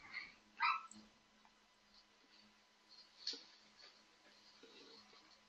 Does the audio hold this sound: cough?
no